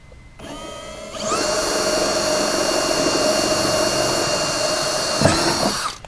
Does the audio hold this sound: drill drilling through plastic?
yes